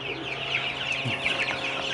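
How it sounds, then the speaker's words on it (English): A steady chorus of chicks cheeping close by, high-pitched and continuous, with soft clucking mixed in. "So here's our little chicks."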